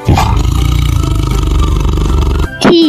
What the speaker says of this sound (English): T is for tiger.